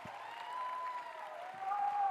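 A church congregation applauds during a sermon, a steady, moderately quiet patter of clapping that swells slightly toward the end, with a faint sustained tone running through it.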